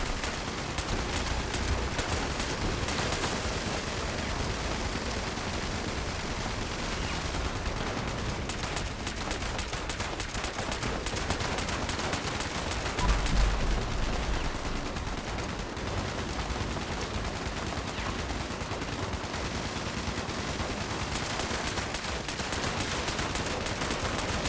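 Rapid, dense gunfire fills a Fallout 76 firefight almost without pause, with steady automatic bursts at an even, loud level throughout and no voices.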